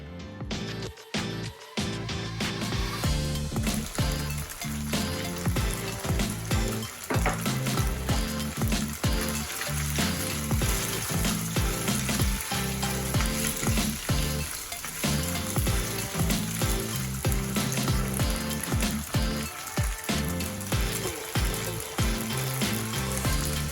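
Tofu frying in hot oil, a dense continuous crackling sizzle with occasional stirring clatter, close and loud throughout with no voices.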